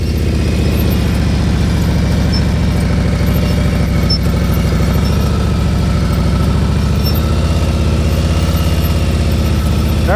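An engine idles loudly and steadily up close, a low throbbing rumble with a slight squeak near the end and no voices.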